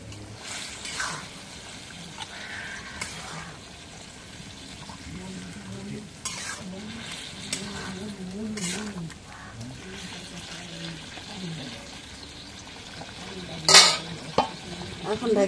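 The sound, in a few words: meat frying and being stirred in a pan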